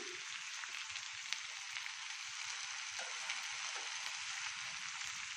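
Pieces of ash gourd fry in a pan with a steady, close, hissing sizzle that holds at an even level throughout, with no talking.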